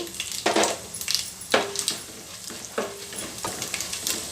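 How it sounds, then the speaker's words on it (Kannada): Chana dal, urad dal, cashews and coconut pieces fry in hot oil with mustard seeds, giving a crackling sizzle broken by repeated clanks and scrapes of a spoon stirring against the pan, close and without speech. "ಇದೆಲ್ಲ ಸ್ವಲ್ಪ ಕಲರ್ ಬರೋ ತನಕ ಫ್ರೈ ಮಾಡಬೇಕು"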